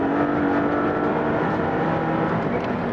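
A Maserati MC20 engine roars steadily under load accelerating out of a corner, pulling hard with a deep, sustained growl and no voices.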